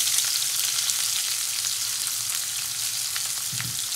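Onions frying in a pan with mustard seeds and urid dal, a steady close hiss and sizzle with faint crackles throughout, no talking.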